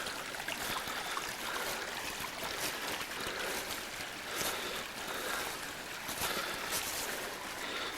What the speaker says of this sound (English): And then look at this waterfall. And of course you can hear that. Just roaring through there.